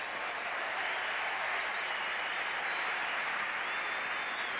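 An Australian crowd cheers and applauds at the 1987 Rugby Union World Cup semi-final against France, a dense, steady roar of clapping that holds evenly throughout.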